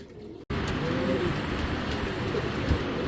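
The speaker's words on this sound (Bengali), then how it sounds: "তো আজকে কিন্তু বেশ কিছু রিসার্চ কবুতর আছে।" Racing pigeons from a club loft coo in low, repeated murmurs amid a continuous bed of bird noise after a brief pause, fairly close and steady throughout.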